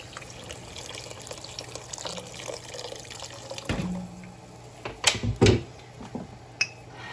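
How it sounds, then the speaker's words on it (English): Water splashes and pours into a cooking pot in short bursts with a few louder gushes and drips near the end, close by, with no talking. "I'm gonna add 5 cups of regular water."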